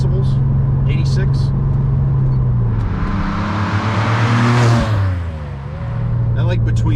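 Porsche 996 Turbo fitted with a titanium exhaust, cruising at highway speed around 2,000 to 3,000 RPM: a steady loud engine drone and exhaust boom that swells briefly, with someone talking over it.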